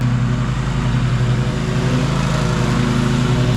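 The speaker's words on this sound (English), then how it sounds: "It's a brand new John Deere lawnmower." A brand-new John Deere lawn mower cutting grass, its engine holding a steady, loud, close droning hum without a break.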